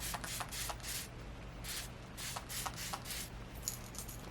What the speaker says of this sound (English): I think everything's set and we can do our final setting spray.